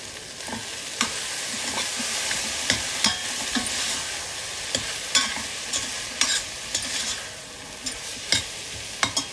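Cooked-down tomatoes sizzle steadily in a pan while chopped coriander and mint are stirred in. A spoon scrapes and taps the pan again and again at an uneven rhythm, loud and close.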